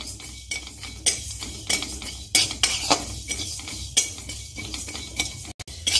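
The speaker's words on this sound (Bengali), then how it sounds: "আস্তে আস্তে করে নেড়ে নেড়ে ভেজে নিতে হবে।" Spices dry-roast on low flame in an empty kadai while being stirred slowly. Close, rhythmic scrapes and light metallic clinks repeat about once or twice a second, with no voices.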